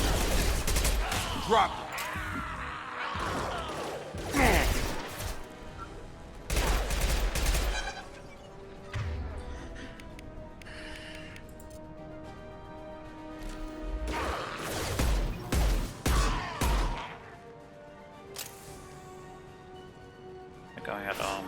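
Bursts of gunfire and crashing impacts from a Mass Effect 2 combat scene crackle in clusters amid game music, with voices talking over the shooting.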